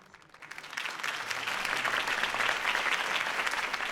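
Crowd applause after a campaign speech for Harvey Dent in a video game builds from quiet to a full, dense clatter of many hands clapping at a moderate distance, sustained without speech.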